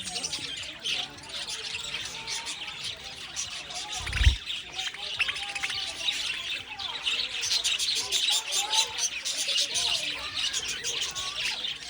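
Birds being hand-fed chirp and squawk continuously in a busy high chatter, with a brief low thump partway through and people talking softly underneath.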